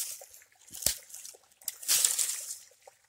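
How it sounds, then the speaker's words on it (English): A small waterfall trickles in a bamboo forest, faint splashing and dribbling water with a sharper splash or two, quiet and close. "Pretty little waterfall."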